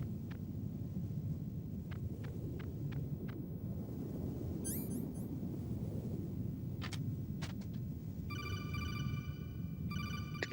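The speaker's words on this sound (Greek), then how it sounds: "Τηλέφωνο." A telephone rings in the PlayStation game Metal Gear Solid, with a short electronic ring pattern near the end of the clip over a low, rumbling ambient bed and a few faint blips earlier.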